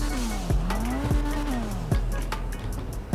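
Turbocharged Dinka RT3000 engine in the GTA 5 racing game, revving and shifting with rising and falling tones, punctuated by several sharp transient pops and tire noise, loud and close throughout.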